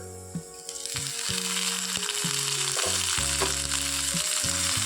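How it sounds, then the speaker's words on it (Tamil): Tomatoes go into a pan of frying onions while cooking a bitter gourd dish; a steady, close sizzle swells and holds, with stirring clinks and scrapes scattered throughout and no talking. "வெங்காயம் நல்லா வணங்கிருச்சு கட் பண்ணி வச்சுருந்தா தக்காளி போட்டுக்கலாம்"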